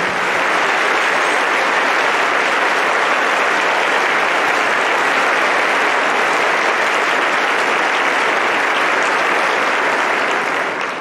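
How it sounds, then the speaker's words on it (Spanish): A church congregation applauding during a Spanish-language service, loud, dense and continuous clapping that holds at full strength for the whole stretch. "Un aplauso para el Señor."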